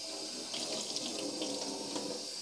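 Cold water runs steadily from a tap into a sink while yarn is being rinsed during dyeing, a constant close splashing rush with no voices.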